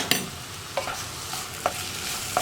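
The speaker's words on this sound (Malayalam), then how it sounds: "നമുക്കൊന്ന് തുറന്ന് ഇളക്കി കൊടുക്കാം." Banana flower and lentil thoran is stirred in a hot pan, with a steady soft sizzle of frying and a few sharp spoon scrapes against the pan, close up and without talk.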